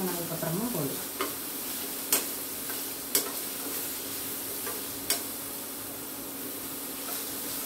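Onions sizzle softly in a pan while a spoon scrapes and taps against the metal now and then, a few sharp clinks standing out.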